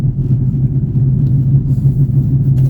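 A 2015 Ford Mustang with a 6R80 transmission idles before a launch on a cool night, a steady low engine rumble holding even and close throughout.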